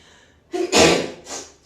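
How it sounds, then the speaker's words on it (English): A single quick sneeze rings out close and clear, an inhaled gasp building into a sharp burst with a softer trailing exhale, set in a quiet yoga class. "Quick sneeze."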